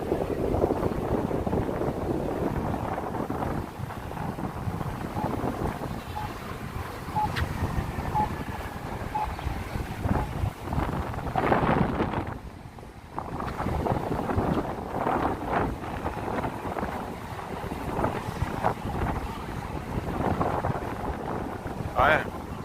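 Wind rushes steadily past the microphone on West 42nd Street in New York City, heading east toward Hudson Yards, a loud continuous buffeting roar with outdoor city noise and occasional voices underneath.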